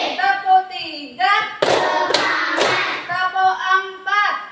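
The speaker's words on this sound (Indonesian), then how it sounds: "kita melakukan tepuk dulu" A class does a rhythmic clapping chant, with bursts of hand claps between voices chanting in unison. Loud and close, in a classroom.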